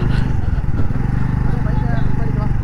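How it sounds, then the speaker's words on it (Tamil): A Royal Enfield Bullet motorcycle approaches on a village road with a loud, steady, low thumping engine rumble close by. Voices talk over it throughout. "புல்லட் வண்டி வந்துக்கிட்டு இருக்கு"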